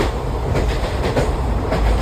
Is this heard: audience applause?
no